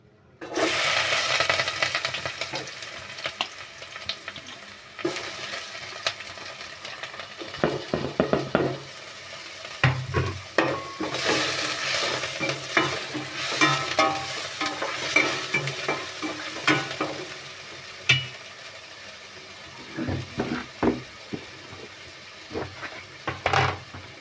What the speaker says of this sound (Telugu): కట్ చేసుకున్న పచ్చిమిర్చి ముక్కలు, ఉల్లిపాయ ముక్కలు వేసుకోవాలి.